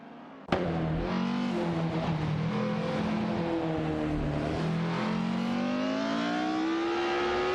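Ferrari 246 F1 and other vintage Formula One cars in an AI-driven racing video game, a sudden engine burst followed by a sustained high whining drone with rising and falling revs, no speech.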